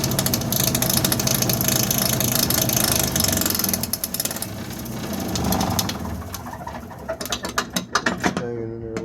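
Small chunks of quartz tumble in an ore mill during hard rock gold processing, giving a steady loud clattering, grinding churn with dense rattling that eases and turns more sporadic toward the end.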